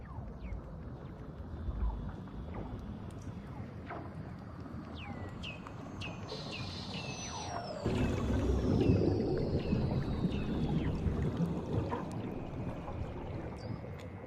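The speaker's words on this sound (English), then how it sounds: "these noises sound like alien radio signals in science fiction movies. They're actually the calls of Weddell seals." Weddell seals calling beneath the Antarctic sea ice: a series of eerie descending and rising whistles and chirps repeat over a constant low underwater rumble, which swells louder halfway through.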